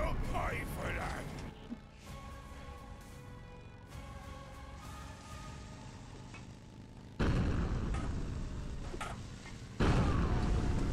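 Thrown bombs exploding in the Road Redemption motorcycle combat game, two loud booming blasts later on over a constant engine drone and mechanical rattling, with speech earlier.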